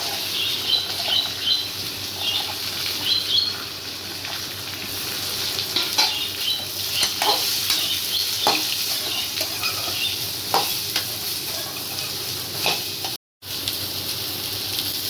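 Pumpkin pieces sizzle and crackle in hot coconut oil as they are stirred, a steady close frying hiss with scattered scraping taps of the spoon, no voices.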